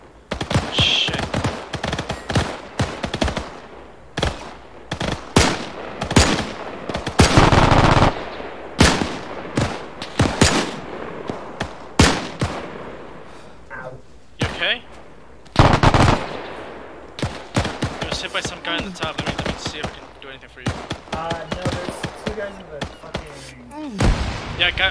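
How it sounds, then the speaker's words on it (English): Machine gun fire rattles in repeated loud bursts across a World War II D-Day battle on Gold Beach in ArmA 3, with heavy gunshots and impacts throughout. "there's a machine gun behind one of the sandbags"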